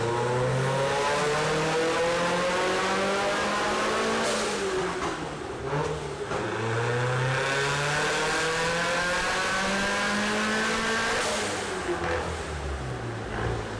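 A turbocharged car engine, about 200 crank horsepower from the factory, revs hard and climbs in pitch in long sweeping pulls, drops back between them and runs loud and close throughout.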